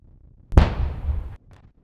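A demining explosion at York Bay in the Falkland Islands bursts out as a single sharp, heavy blast, then rolls off in a rumbling tail for under a second before fading back to quiet.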